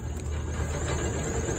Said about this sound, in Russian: И вот вибрация его крестовин, передаваясь на полый внутри карданный вал, и издает звук.